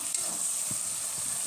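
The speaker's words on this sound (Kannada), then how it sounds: "ಇದು ಎಣ್ಣೆಯಲ್ಲಿ 1-2 ನಿಮಿಷ ಫ್ರೈ ಆಗಲಿ" Brinjal sizzling in hot oil for green pea masala rice, a brief steady frying hiss with a faint stir, no speech.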